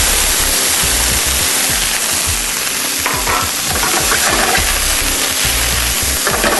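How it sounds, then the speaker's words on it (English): Diced onions sizzle loudly in hot olive oil in a sauté pan, a dense steady crackle and hiss throughout with soft stirring scrapes underneath. "we're going to add some olive oil to this, and then some diced onions"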